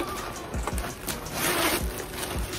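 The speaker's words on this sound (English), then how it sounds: "It has the plastic pink zipper." Plastic pink zipper on a Kurt Geiger recycled tote bag is pulled along its track with a close, raspy ripping sound, quiet and continuous for a couple of seconds with no talking.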